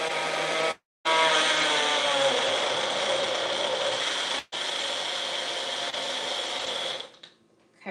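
A home juicer's small motor runs in short bursts, a loud grinding whir with a brief gap near the start and another stop midway, then winding down and falling quiet at the end.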